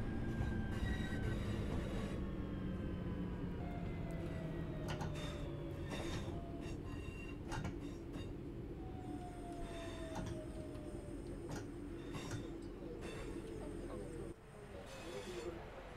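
Passenger train running on the single-track Glossop Line between Manchester and Glossop in Train Sim World 3, a steady rumble with wheel squeals and brief clatters throughout, with someone talking over it.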